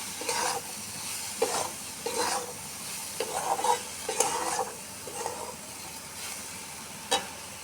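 Spices such as Kashmiri chilli powder, cumin and coriander powder fry in a pan while a spoon stirs them, giving soft sizzling with repeated scraping strokes, close and moderately quiet, with no talking.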